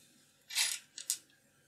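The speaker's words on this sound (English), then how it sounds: "it's important to hear that rattling sound, because you do not want the beam splitter to be held rigidly in" A beam splitter rattling loosely inside a microscope's advanced filter block while it is assembled with screws: a few quiet, short metallic clicks and shakes, with no talk.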